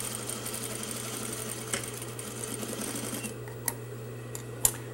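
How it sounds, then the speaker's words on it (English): A sewing machine runs steadily, stitching a practice Hong Kong seam with a 3/4 seam allowance, a continuous close mechanical whir with low hum, then slowing near the end with a few sharp clicks. "pretend that this is an actual garment that I'm sewing, and I will do 3/4 seam allowance."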